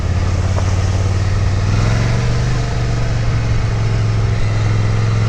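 A 2022 Ducati Scrambler 800 Night Shift motorcycle rumbles steadily through its exhaust pipes, a loud, deep, continuous throaty idle close by with no talk.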